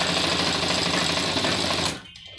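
A sewing machine stitches a men's kurta in a fast, steady mechanical whir of close needle strokes, then stops suddenly near the end and leaves quiet room tone.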